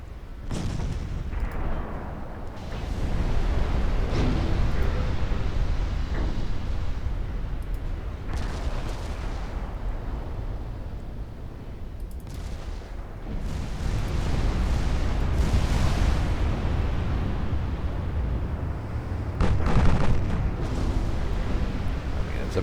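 Naval main gun artillery fire in a 1954 Norwegian campaign war game invading Britain, dense rumbling booms and repeated heavy blasts over a constant low roar, loud and continuous.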